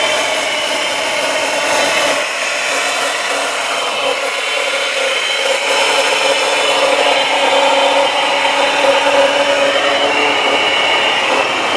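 A 2003 Chevrolet Impala LS's 3.8 liter V6 idles steadily under the open hood, a broad, even hum and whir heard up close as the listener moves around the engine bay, with no talking.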